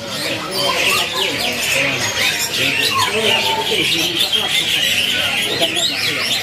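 Javan pied starlings (jalak suren) squawk and chirp continuously among many caged birds at a bird market kiosk, a dense, busy chorus close to the microphone with a voice talking underneath.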